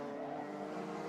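A race car with a damaged exhaust goes past at the Al Ain round of the UAE Rotax Max Challenge, a steady, loud broadband engine roar holding for about a second without a clear pass-by swell.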